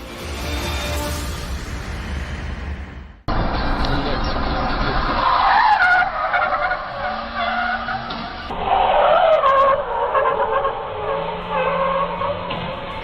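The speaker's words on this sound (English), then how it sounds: "He reacted super quick to stop the car after forgetting to pull the parking brake." A car braking hard to a stop after its parking brake was left off, with loud tire squeals and skidding in several bursts, some long and sliding, and excited voices talking over the scene.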